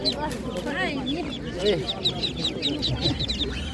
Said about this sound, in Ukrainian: Це шипуни, так? Шипуни.